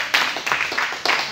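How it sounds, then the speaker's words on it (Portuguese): A church congregation claps in a short burst of applause, close and fairly loud, with a few distinct clap peaks and voices mixed in. "Dê aquele aplauso para o Senhor."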